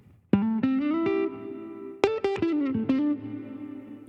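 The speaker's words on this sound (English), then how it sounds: "Now we go back to our guitar channel and we turn it up towards the verb." Electric guitar notes and short phrases played clean, each ringing out with a bright, lingering plate-style reverb tail between picks.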